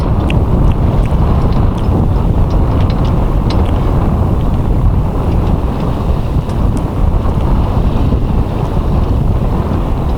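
Wind blows hard over the microphone aboard an Allied 36 ketch under sail, a steady loud roaring rush with water noise beneath, continuous for the whole stretch and no voices.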